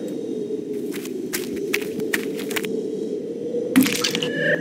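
A stone bashing a penguin's head in the video game The Littlest Penguin: several sharp cracking impacts land over a steady low droning background, with a final harder crunch near the end.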